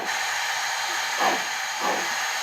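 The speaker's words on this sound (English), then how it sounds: "is the steam being released out of the steam chests of each cylinder" A Life Like Proto 2000 PRR 2-8-8-2 HH-1 model steam locomotive sound unit venting steam from the cylinder steam chests, a continuous hiss with two louder puffs of release about half a second apart.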